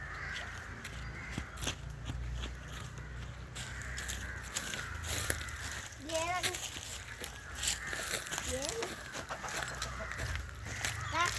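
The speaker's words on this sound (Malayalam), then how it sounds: "ഇതാണ് കരിങ്കോഴി" Karinkozhi black chickens on a poultry farm give a few short, faint clucks and calls in the background while a person talks nearby.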